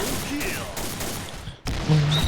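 Gunfire in the Point Blank shooting game, dense continuous bursts of rapid shots filling the clip, loud and close, with a brief gap before the firing resumes.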